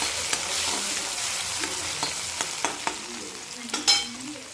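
Tomatoes and green chili fry in a pan with a soft continuous sizzle, while a utensil stirs and scrapes in scattered taps and clinks, growing a little louder near the end.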